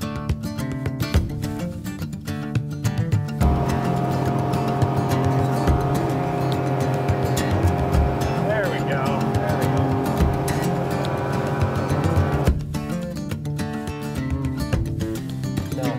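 A fishing boat's engine on a lake drones steadily and loudly up close, a rumbling motor tone carrying through the middle of the stretch while bursts of wind buffeting come and go at the start and end.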